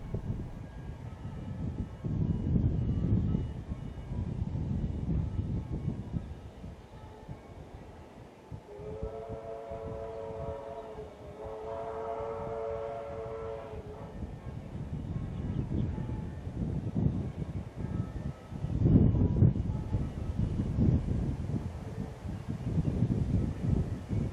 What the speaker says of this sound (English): we see R766 passing through, kicking off the mainline steam season in New South Wales